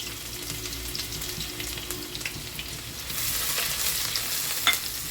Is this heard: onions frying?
yes